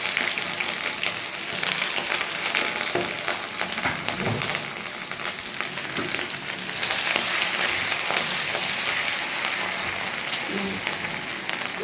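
Ginger and onion frying in oil in a pan for spring roll filling, a steady loud sizzle running throughout with light stirring scrapes and no talk.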